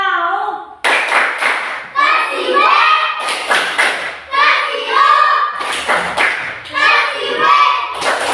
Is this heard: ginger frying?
no